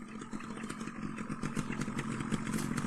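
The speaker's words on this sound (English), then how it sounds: "Just then, Peter Fogg arrived on his motorbike." A motorbike engine running steadily nearby in a village road setting, a continuous mid-pitched drone with clattery rhythmic pulses, moderately loud throughout with no talk.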